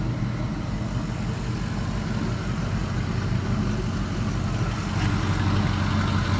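LM7 5.3L LS V8 engine with an LS1 cam and new crank and bearings, idling on a stand while it warms up, a steady low rumbling drone with an even pulse that runs continuously, close and fairly loud.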